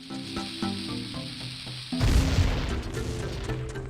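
Bombs blowing up boulders in The Legend of Zelda: Ocarina of Time Master Quest: after a run of short tonal game sounds, a loud, broad explosive burst hits and rumbles on to the end.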